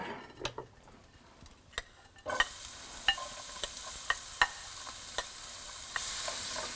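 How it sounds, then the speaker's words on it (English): Onions drop into hot olive oil in a pan, the sizzle jumping up suddenly and holding as a steady hiss, with regular utensil taps and clinks against the pan, close by and without voices. "So we have to add a little bit more olive oil to the pan here. And now the onions go in."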